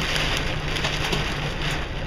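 Hail and storm-driven rain pelting a truck with an empty trailer parked in a Walmart parking lot in Waco, a dense steady clatter with gusting wind roar throughout, loud and close, no talking.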